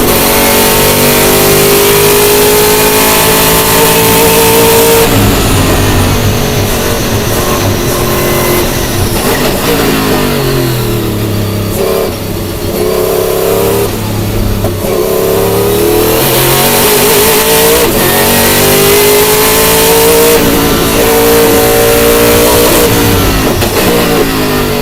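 A Sauber Mercedes C11 race car screams through repeated gear changes, with straight-cut gear whine over the engine note and rising revs that climb and drop several times. It is loud and close, with no voices.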